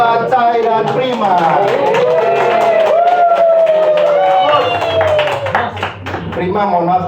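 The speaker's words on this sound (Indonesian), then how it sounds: "Tepuk tangan buat Cai dan Prima." An audience at a public speaking workshop applauds two participants, with clapping mixed into loud, sustained cheering voices and crowd chatter throughout.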